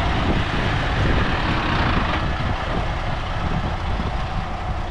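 A working dump truck hauling wet lime rock rumbles with a steady low engine drone and broadband road noise, continuous and moderately close, with no talking over it.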